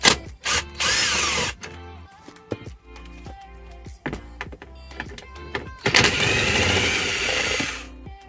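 Two 10mm nuts come off the kick panel area of a 2007-2013 Toyota Tundra, with short whirring bursts of a power driver, clicks and clunks of tools and parts, up close and fairly loud.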